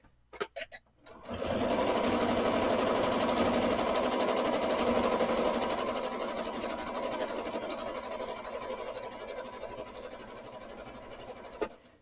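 A sewing machine stitches continuously through free motion quilting, a steady loud close whir running for about ten seconds after a few brief starting clicks, then stopping abruptly.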